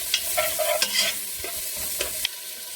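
Onions and garlic saute in a pan for a goat meat stew, giving a soft steady sizzle broken by the scrape and clatter of stirring, close and fairly quiet, with no talking.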